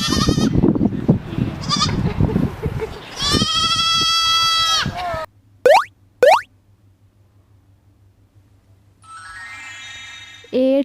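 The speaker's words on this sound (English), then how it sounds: "4 goats." Goats in a children's counting lesson bleat in several loud, wavering calls, one long cry followed by short separate bleats and a later one, with clicks and plops between them.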